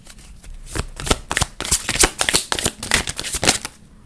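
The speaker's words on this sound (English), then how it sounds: "let's go with these chakra cards" Deck of chakra cards being shuffled up close, a series of crisp riffling bursts and flutters repeating irregularly across the whole stretch, with no voice.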